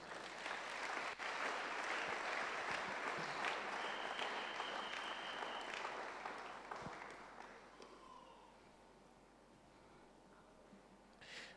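A church congregation claps together in sustained applause during a French-language sermon, loud at first and then slowly fading away over the final seconds.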